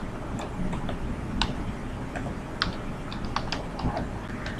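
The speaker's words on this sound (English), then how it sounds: "you just have to type" Typing on a computer keyboard: a steady, irregular run of light clicking keystrokes close by, alone without talk.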